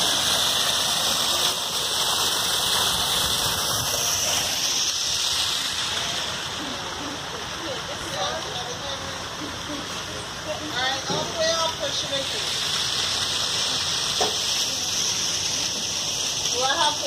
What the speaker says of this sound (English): Nice little waterfall here.